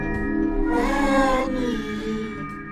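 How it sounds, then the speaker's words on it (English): A baby character in The Baby In Yellow video game gives a drawn-out, wavering cat meow, a single clear near call about two seconds long that rises and then fades. "Did he turn into a cat?"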